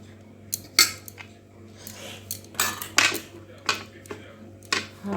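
Lunch being served onto a plate with utensils, starting with rice, heard as scattered close clinks and scrapes of metal spoons against the plate and dishes, separated by short pauses over a quiet room hum.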